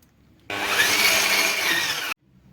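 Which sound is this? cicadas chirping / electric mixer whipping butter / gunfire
electric mixer whipping butter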